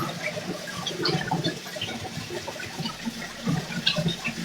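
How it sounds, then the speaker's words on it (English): Water running from a tap while a chip is rinsed, a moderate uneven splashing trickle with faint clatter, heard fairly close and without speech. "I hear water. Did he rinse the chip off?"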